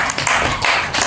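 Applause from a crowd at a neighbourhood RT 04 halal bihalal gathering for Eid al-Fitr, a dense burst of clapping filling the whole short moment, steady and fairly loud.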